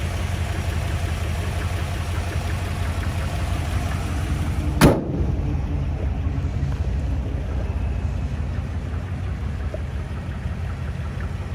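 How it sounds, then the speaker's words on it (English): Steady low idle of a 1957 Ford Thunderbird 312 Y-block V8 with automatic transmission, heard close with wind-like hiss over it and one sharp click near the middle. "Really smooth running engine."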